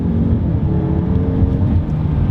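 A turbocharged Mazda3 with 250 horsepower pulls hard after a downshift, giving a loud, steady, low engine drone heard from inside the cabin, with no talking.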